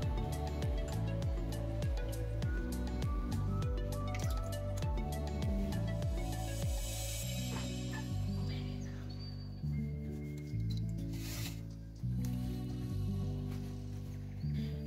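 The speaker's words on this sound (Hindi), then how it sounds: "इसको मम्मी डाल रही है एक दूसरे बड़े बाउल में जिसमें पानी है और मक्खन पानी से साफ हो जाएगा।" Homemade butter made from cream is dropped and squeezed in a large bowl of water, giving steady wet drips, squelches and splashes in a close, continuous rhythm with no talking.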